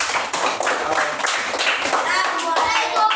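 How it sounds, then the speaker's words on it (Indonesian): A group of children in a classroom lesson clap their hands together, brisk uneven bursts of close claps mixed with young voices talking over them. "Ya, tepuk tangan dulu."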